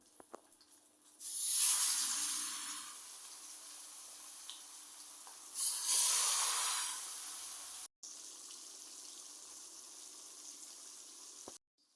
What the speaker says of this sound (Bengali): এখন কড়াই বসিয়ে তেল গরম করে নিব মাছ ভাজার জন্য